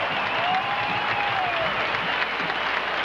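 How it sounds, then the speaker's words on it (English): A big football stadium crowd at the 1978 Clemson versus South Carolina game roars and applauds steadily as the senior players come off the field, a dense, continuous wash of cheering with a faint whistle rising above it. "Look at that senior group come off the field and listen to this crowd."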